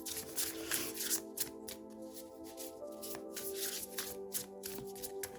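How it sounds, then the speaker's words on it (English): Cards being shuffled in quick riffling bursts, repeated several times, close by, over a steady background tone. "It's really making me shuffle, but it is a new deck"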